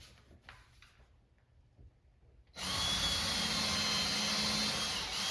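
Power drill starting abruptly and running steadily at a loud, continuous whine, driving screws with a countersinking bit into a wooden arcade cabinet during a Journey arcade machine restoration, after a few seconds of quiet handling noises.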